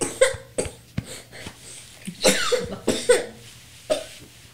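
A child coughs indoors in a series of irregular, close, sharp coughs separated by short pauses, some of them throaty and voiced, with no speech between them.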